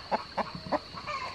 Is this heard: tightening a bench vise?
no